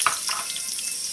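Onions and peppers sizzling in hot oil while being sautéed for aloo pie, a steady close frying hiss with a few stirring clinks near the start, with no talking.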